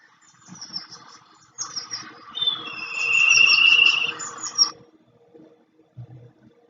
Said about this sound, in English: This is the sound of the bird kite